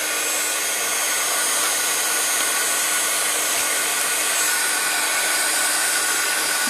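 Heat tool blowing hot air to dry glued vellum paper, a steady loud whooshing hiss of airflow that runs without a break from start to finish, close to the microphone.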